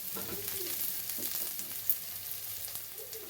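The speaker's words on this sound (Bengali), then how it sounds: "পেঁয়াজটা ভেজে নিচ্ছি আমি" Sliced onions frying in hot oil to make crisp beresta for mutton kosha, a steady close sizzle with occasional stirring scrapes and small crackles, no voices.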